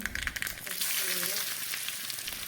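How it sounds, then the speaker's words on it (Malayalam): Finely chopped shallots fry in hot oil after mustard seeds have spluttered, a tempering for Kerala-style jackfruit puzhukku. A close, bright sizzle runs continuously, with a few small crackles at the start. "കടുക് പൊട്ടിയതിന് ശേഷം"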